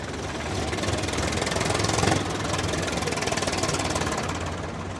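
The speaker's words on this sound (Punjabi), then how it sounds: "ਵੱਡੀ ਗਿਣਤੀ ਦੇ ਵਿੱਚ ਟਰੈਕਟਰ ਜਾ ਰਹੇ ਨੇ" Heavy Swaraj tractor engines rumble close by with a steady rhythmic chugging, the loud throb swelling slightly in the middle as the tractors roll past.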